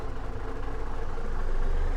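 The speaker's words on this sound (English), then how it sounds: "Just take a listen to this engine. Zeemods again does a fantastic job of his sound packs" Heavy truck engine from a Zeemods sound pack in American Truck Simulator, a steady low rumbling drone that swells slightly louder toward the end, with no talking.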